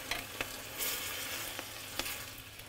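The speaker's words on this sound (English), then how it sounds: "Stir that around." White wine sizzles and bubbles in a hot pan while it is stirred, in a sauce for Sicilian-style swordfish, with steady frying hiss and a few soft clicks from the utensil, no voices.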